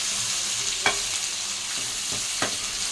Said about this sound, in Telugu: వేగాక అందులోకి పసుపు, అల్లం వెల్లుల్లి పేస్ట్ వేసి కొంచెం మిక్స్ చేయాలి.